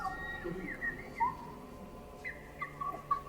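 Bird song in the video game Split Fiction, a few high, bright chirps and short whistled phrases repeating at a moderate level over a soft game-ambience bed, with no talking.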